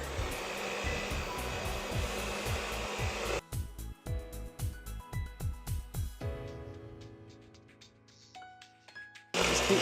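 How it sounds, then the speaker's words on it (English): An electric hand mixer whips cake goop (cake release) in a bowl, a steady loud whirring broken by rhythmic scraping pulses, then cutting out into quieter clatter before starting up again at the end. "So I have my handy dandy hand mixer here."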